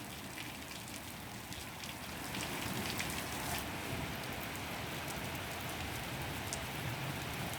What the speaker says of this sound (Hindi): पहाड़ों में लगातार बारिश का सिलसिला जारी है, साथ ही मैदानी इलाकों में तेज हवाओं के साथ बारिश हो रही है।